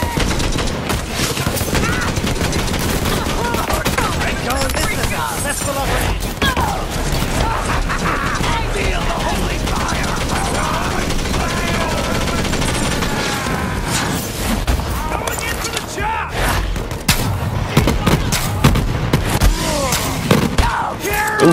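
Dense, continuous bursts of gunfire and weapon clatter from the Borderlands 3 video game fill the whole stretch, loud and close, with a voice talking over the chaos.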